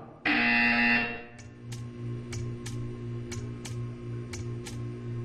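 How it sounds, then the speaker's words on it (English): A loud electronic buzzer in Portal 2 blares for about a second, followed by a steady low hum with faint regular ticking clicks. "You will hear a buzzer."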